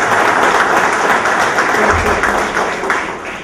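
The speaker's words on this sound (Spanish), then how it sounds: "Unos aplausos para" Audience at a university event breaks into loud, dense applause that holds steady for several seconds, then starts to thin out toward the end.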